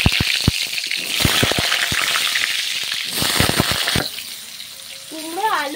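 Cut carrot, sweet pumpkin and potato fried in oil for Bengali bhoger khichuri, heard as close crackling bursts and pops over a sizzle that dies down midway, followed by a brief voice.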